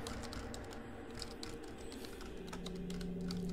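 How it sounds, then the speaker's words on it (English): Quiet, steady typing on a computer keyboard, a run of light clicking keystrokes at an even pace throughout, close by with no voices. "And then I have to manually type this in"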